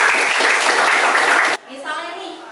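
Students in a classroom clap loudly together for a short burst that stops abruptly, followed by someone speaking.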